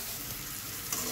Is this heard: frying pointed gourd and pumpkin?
yes